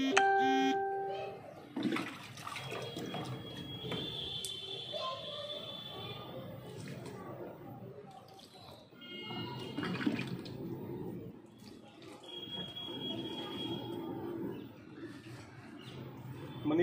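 Liquid mustard cake fertilizer is poured from a container into outdoor plant pots in small splashing pours, with a trickling, gushing water sound that rises and falls. Birds chirp faintly in the background.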